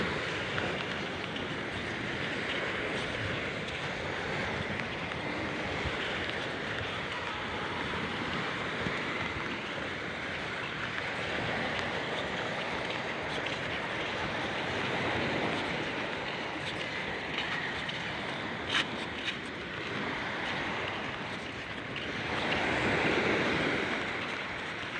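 A strong sea current churns with waves after a night of big swells, a broad, continuous wash of rushing water, loud and close, with no voices.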